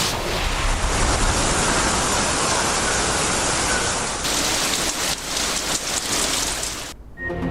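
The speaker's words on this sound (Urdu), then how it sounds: "کراچی میں بادلوں کی بھرپور اننگز، شہر کے مختلف علاقوں میں ابر رحمت" Heavy rain pouring down across Karachi streets, a dense, steady hiss of drops hitting surfaces that stays loud throughout and cuts off abruptly at the end, with no voices.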